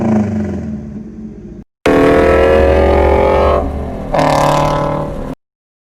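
A 2018 Toyota GT86 fitted with Megan Racing headers revs hard, holding a loud raspy drone that cuts off, surges again, then climbs into a second shorter rev before stopping abruptly.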